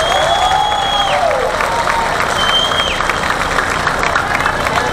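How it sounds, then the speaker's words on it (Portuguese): Sustained applause and cheering from a live concert crowd in Campo Grande, steady and fairly loud throughout, with a couple of rising whistle-like tones cutting through. "Vamos aplaudir."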